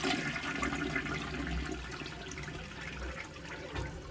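Toilet in a budget rental flushes with a continuous rushing, gurgling swirl of water, fairly close and steady, with a faint high whine above it and no voices.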